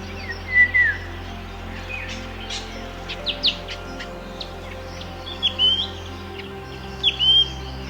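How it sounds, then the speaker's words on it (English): Wild birds call from the rainforest canopy of Borneo in a scattered run of sharp chirps and whistled notes, several close bursts standing out over a steady hum of distant insects and background forest calls. "what we found the most were the beautiful wild birds that live in the forest canopy"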